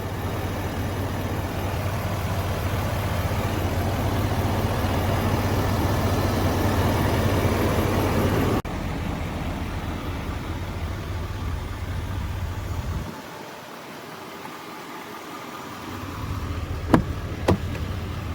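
A 2021 Chevrolet Silverado 3500HD flatbed's 6.6-liter Duramax diesel idles with a steady, close, loud rumble that drops to a quieter hum partway through, followed by a couple of sharp clicks near the end.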